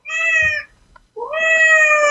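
A human voice imitates a cat meowing: two drawn-out, clear meows close up, separated by a short pause, with no other talk.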